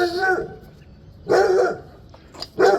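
A loud dog named Blue barks three times nearby in a home mower-repair workshop, each bark sharp and separated by roughly a second of quiet.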